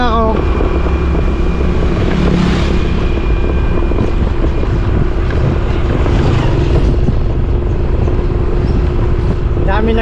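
A motorcycle carries its rider along a rural road, the engine droning steadily and loudly up close under constant wind buffeting the microphone.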